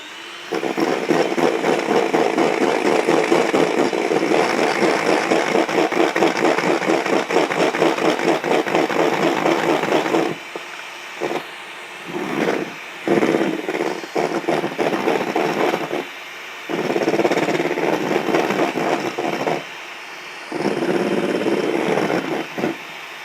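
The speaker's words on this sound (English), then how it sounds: "I'm just going to do a bit of whisking." An electric whisk beating egg whites for a chocolate mousse gives a loud, close, steady motor whir that runs for about ten seconds, then stops and restarts in short bursts with brief quiet gaps, with no talk.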